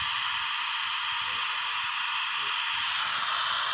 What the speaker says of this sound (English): This is all steam that would have gone in the yurt.